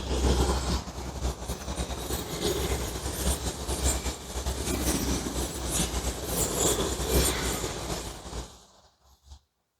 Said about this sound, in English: We have a second train of the day.